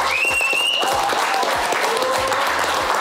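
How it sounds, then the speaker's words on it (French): Applause from a comedy show crowd, a steady wash of clapping layered with background music, lasting about three seconds. "je vais vous demander de les applaudir s'il vous plaît"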